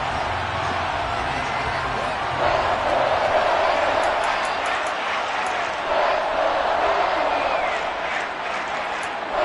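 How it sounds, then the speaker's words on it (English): A large football crowd shouts and roars while a replay is shown, a constant broad rumble of voices with occasional sharper whistles and cries standing out above the din. "Plenty of shouts from this crowd as they watch the replay."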